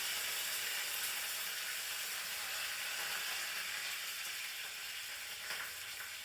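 Fenugreek seeds sizzle as they fry in hot oil in a pan, a soft, continuous crackling hiss with faint popping that fades slightly near the end, heard close and alone with no talking.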